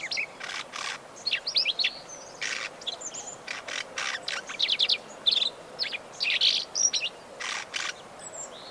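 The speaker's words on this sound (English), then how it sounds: "A flock of lark sparrows darts among the sunflowers, flashing white tail feathers." A flock of lark sparrows among sunflowers, giving many short high chirps and trills in quick irregular bursts over a soft steady background hiss, fairly close and with no voices.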